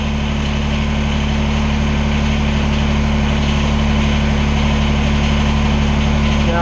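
Kubota BX23S compact tractor diesel engine idling with a steady, loud, close drone and constant low harmonic hum while the backhoe is being fitted.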